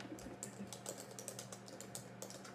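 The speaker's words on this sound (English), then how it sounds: "I'll type it." Typing on a computer keyboard: quiet, close key clicks in an uneven rhythm, some strokes a little sharper, with no talk.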